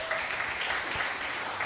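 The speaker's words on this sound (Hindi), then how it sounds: "इसके लिए तो ताली बजनी चाहिए।" Congregation at a Christian sermon in India breaks into applause, a dense, steady wash of clapping from many hands throughout the short stretch, fairly loud and without talk.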